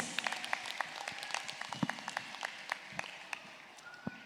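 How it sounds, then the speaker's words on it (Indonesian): Applause at a school graduation for a student, with scattered hand claps in a hall that come through as a moderate, uneven patter, moderately distant, with no talk. "Baik, kita beri tepuk tangan yang meriah untuk Ananda Danis."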